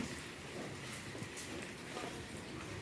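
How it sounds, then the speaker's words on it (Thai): Rain falls on a cold, windy day in rural Thailand, a faint, steady hiss of drops and gusting air with no voices. "ฝนตกพี่เนาะ"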